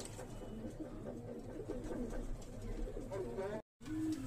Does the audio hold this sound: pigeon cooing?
yes